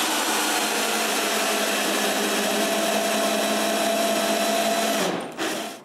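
A power drill bores and taps bolt holes in wood for a homemade wooden bandsaw, a steady loud whirring drone that runs almost without pause and cuts off near the end, with no talk.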